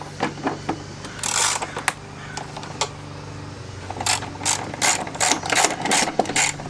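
A hand ratchet loosens a 13 mm bolt on the motor mount of a VW MK4 TDI Jetta, giving bursts of quick, close clicking pawl sounds separated by short pauses over a low background hum.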